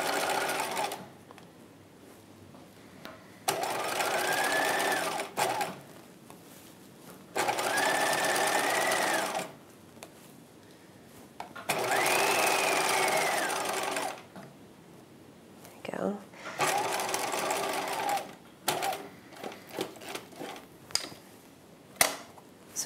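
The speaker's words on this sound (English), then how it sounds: "So I'm just sewing kind of around a rectangle." A sewing machine stitches around a rectangle on the bodice of a 1950s halter dress, running in four steady bursts of whirring with pauses between, close and fairly quiet, followed by light handling clicks.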